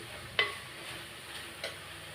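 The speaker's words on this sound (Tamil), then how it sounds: "இப்போ நல்லா மிக்ஸ் பண்ணி வச்சுக்கலாம்." Bitter gourd kulambu gets stirred in a pan, with a sharp scrape of the spoon early on and a second softer scrape later over a faint low sizzle; no talking.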